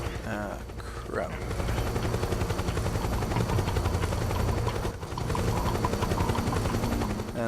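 Helicopter rotors throb steadily beneath bursts of gunfire in Metal Gear Solid 4: Guns of the Patriots, a dense, loud wash of game action with a brief dip midway.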